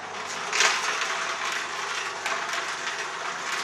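An Omega VRT 330 vertical juicer runs in reverse and then juices, giving a steady close mechanical grinding and whirring with a brief louder crunch early on and a constant motor hum throughout.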